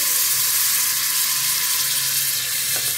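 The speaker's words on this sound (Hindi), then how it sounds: "इसको हम 5 मिनट भून लेंगे।" Half a kilo of beef mince (keema) with garlic fries in a pan, giving a loud, continuous close-up sizzle with no pauses and no voices.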